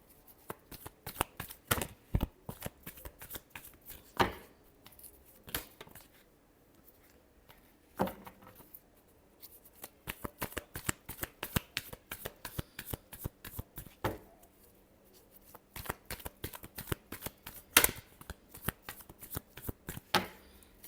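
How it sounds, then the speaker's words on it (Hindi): Tarot cards being shuffled by hand in a quiet room: a long run of rapid, riffling flutters and soft slaps that come in bursts with short pauses, close and fairly faint, with no talking. "Last shuffle."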